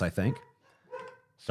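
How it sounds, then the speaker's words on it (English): A dog barks in the background of a room while a person talks, a few muffled barks between and under the speech. "my dog is barking."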